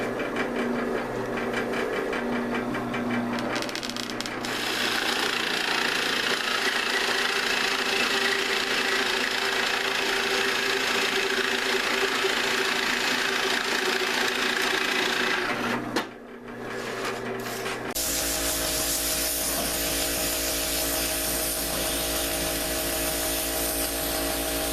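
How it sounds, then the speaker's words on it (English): A drill boring hinge holes in cabinet doors for a converted school bus, a steady whirring motor that runs for about fifteen seconds, stops briefly, then starts again with a harsher, brighter tone. "So let's drill out the holes for the hinges."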